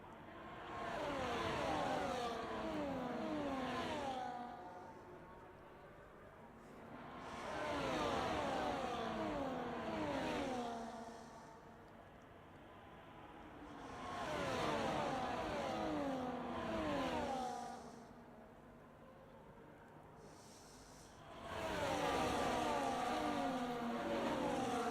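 Ferrari race cars race at Silverstone, passing in repeated waves as engines swell loudly and fade every few seconds, with rising and falling revs and gear changes.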